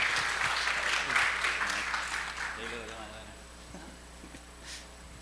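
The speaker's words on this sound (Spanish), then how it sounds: "Fuertes palmas para el doctor, por favor." Audience applause for a doctor after a conference presentation, a broad wash of clapping that is loudest in the first two seconds and then thins out and fades, with some voices mixed in underneath.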